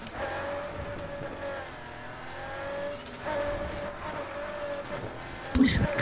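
Racing car engine from the Need for Speed Heat video game, a steady revving drone holding pitch, dipping briefly near three seconds then pushing on, with a sharp knock near the end, speech faint underneath.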